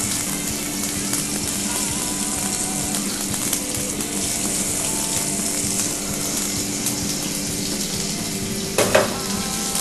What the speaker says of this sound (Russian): в этой же сковороде обжариваем быстренько лук до полуготовности